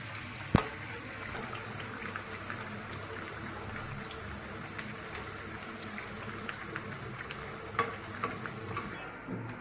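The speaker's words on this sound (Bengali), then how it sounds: "এখন পিঠাটা আমি ভেজে নেব।" Coconut pitha frying in hot oil gives a steady, soft sizzle and crackle throughout, with a few sharp pops and faint clicks and no talking.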